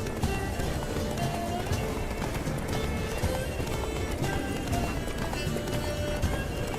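Hooves pound in a fast, steady galloping rhythm in the video game The Witcher 3: Blood and Wine, close and continuous, with a horse's whinny mixed in.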